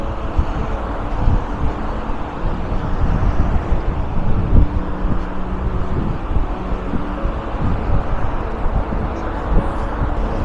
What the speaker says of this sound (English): So it's actually quite windy here. It'll be interesting to hear how the microphone is coping with the wind.